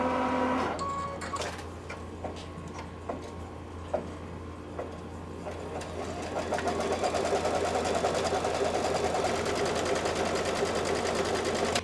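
An embroidery machine stitches a placement line on hooped stabilizer, a steady rhythmic ticking and mechanical hum that grows denser and louder in the second half, with no talk.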